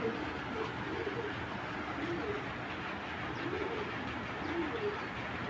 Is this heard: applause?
no